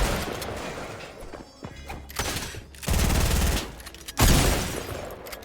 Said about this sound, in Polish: słyszałem kolejne strzały